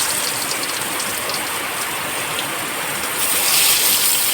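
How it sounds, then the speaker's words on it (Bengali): Heavy rain pours down during a home cooking session, a dense steady hiss that runs the whole length and swells a little louder near the end. "প্রচন্ড বৃষ্টি হচ্ছে বন্ধুরা"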